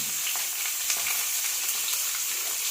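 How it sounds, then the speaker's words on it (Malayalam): Steady oil sizzle from shallots, potatoes, tomatoes and green chilies sautéing in a pan, with light stirring scrapes throughout and no talking. "ഇതെല്ലാം കൂടി നമുക്ക് എണ്ണയിൽ ചട്ടിയിലിട്ട് നന്നായിട്ട് വഴച്ചെടുക്കാം"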